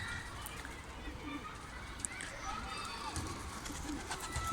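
Pigeons coo softly amid a busy, noisy background, with scattered flutters and soft shuffling from nearby birds.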